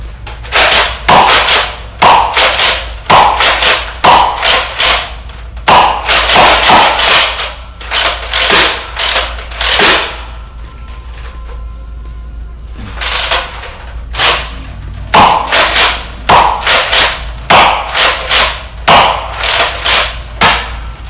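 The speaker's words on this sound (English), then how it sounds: "firing the Artemis is an amazing experience" A Nerf Rival Artemis blaster fires foam balls in rapid bursts of loud, sharp pops with a mechanical clack on each shot and short pauses between volleys, close and dry with no one talking.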